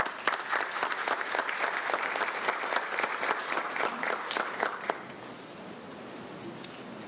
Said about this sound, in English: Another round of applause for Ms. Toro, please.